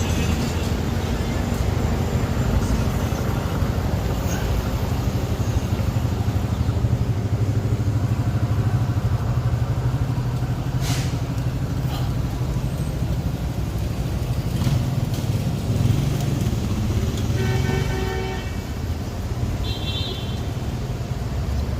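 Loud, continuous morning street traffic in a New York City neighborhood, with engines rumbling from cars and motorcycles and a brief high tone near the end.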